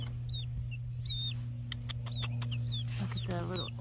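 Chickens and small chicks cluck and peep outdoors, with short high chirps repeating through a steady low background hum, fairly faint and without speech.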